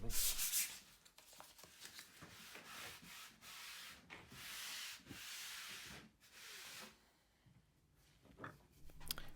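Rhythmic scratchy strokes of sanding on wood, back and forth at a steady pace, close by, ending with a quieter pause and some handling sounds.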